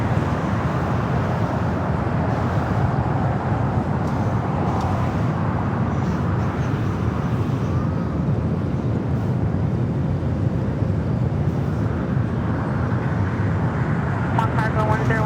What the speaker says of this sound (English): Dreamliner up next for arrival at 25 at left.